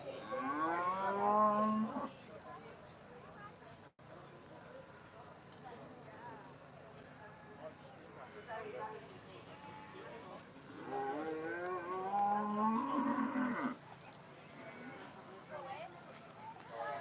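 Young Simmental heifers moo loudly in a livestock show ring, with two long lowing calls at the start and another near the end, while an announcer talks over a busy show background.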